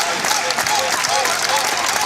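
Crowd at a Karate Combat event cheering and clapping in a steady, dense wash of applause, loud and continuous throughout.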